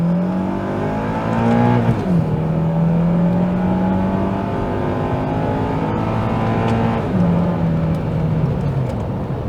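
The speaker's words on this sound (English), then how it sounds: "I'm just going to briefly drive the automatic version of the Accord Euro" Automatic Honda Accord Euro, a seventh-generation CL9, being driven: engine note climbs steadily through a gear, drops at a shift, then rises again through another long pull before the next change, loud and continuous from inside the car.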